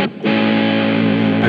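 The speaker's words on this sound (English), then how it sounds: "That's really uncommon to have that kind of string clarity with that much distortion, especially with a solid state amp." Heavily distorted electric guitar played through a DV Little GH 250 solid-state amp, a brief dense sustained chord with clear string definition and a thick, saturated tone, loud and with no talk over it.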